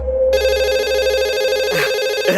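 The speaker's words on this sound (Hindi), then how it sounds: "देखा देखा, आ गया फोन" A telephone rings close by, an electronic trilling tone sounding continuously with no one speaking.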